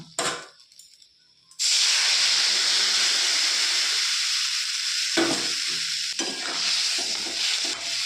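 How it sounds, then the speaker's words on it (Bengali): Water poured over vegetables frying with turmeric and salt for Bengali shukto sets off a sudden loud, close sizzle after a quiet start, then the hissing continues steadily. "সামান্য একটু নাড়াচাড়া করে আমি এতে জল দিয়ে দিলাম"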